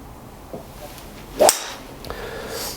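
A Mizuno JPX EZ 3-wood strikes a golf ball with a single sharp, crisp crack at mid-clip, fairly close and loud against a quiet outdoor background.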